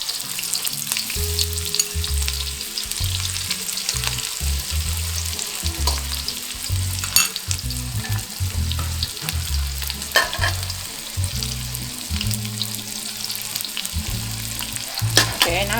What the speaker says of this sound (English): Fry for around 2 minutes, then you add in the garlic.